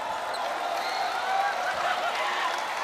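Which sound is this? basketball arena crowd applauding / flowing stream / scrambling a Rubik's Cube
basketball arena crowd applauding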